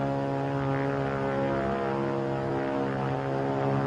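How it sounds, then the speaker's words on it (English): A propeller-driven airplane drones steadily overhead, a continuous mid-distance engine hum with a faint rise and fall as it passes. "It's a plane, all right."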